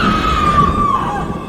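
A woman screams loudly in a horror setting: one sustained, piercing cry that holds steady and slowly falls in pitch, close and loud over a dense noisy background.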